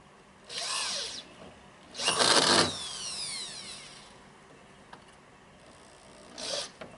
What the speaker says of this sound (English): And all you got to do is start screwing it together